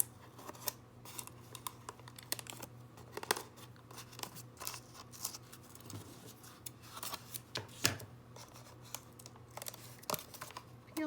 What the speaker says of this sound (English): All those pieces of tape I put on there can come off.